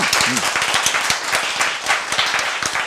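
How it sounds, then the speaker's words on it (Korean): Audience clapping during a Korean lecture on healthy eating, a steady burst of many hands with sharp individual claps audible, moderately loud and continuous. "박수."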